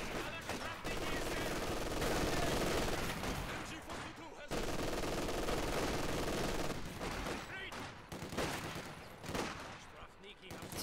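MG42 machine gun fire in a Company of Heroes 2 match, with sustained loud bursts of rapid automatic shots and layered battle gunfire, under a caster's talk.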